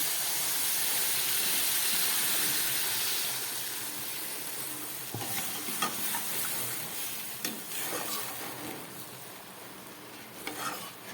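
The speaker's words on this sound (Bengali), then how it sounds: "সর্ষে দেবার পর বেশি ভাজবো না, এবার আমি জল দিয়ে দিচ্ছি।" Water goes into mustard-poppy paste with green chilli frying in a pan, a strong hiss and sizzle that fades and settles into softer bubbling, with scattered clanks of a utensil against the pan and no talking.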